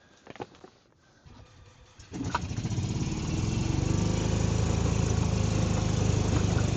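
A golf cart with new rear shocks starts off after a few soft knocks. Its motor then rises into a loud, steady engine drone that continues to the end, with birds faintly audible early on.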